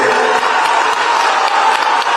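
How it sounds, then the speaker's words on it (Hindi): A crowd claps at an outdoor political rally in Faridabad, a public blessing meeting addressed by Amit Shah. Loud, dense applause fills the whole short stretch evenly, close and continuous. "ताली बजाओ"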